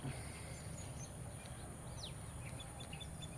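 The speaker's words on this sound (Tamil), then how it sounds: "இட்ஸ் லைக் பேர்ட்ஸ் எல்லாம் கத்துற சவுண்டு" Birds calling outdoors along a quiet nature walk, with a few faint, scattered chirps high above a steady background hiss.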